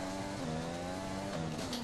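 Formula 1 race car in the F1 2020 video game at the British Grand Prix circuit, its engine holding a loud, steady high-pitched whine with a slight pitch dip partway through, alone without talk.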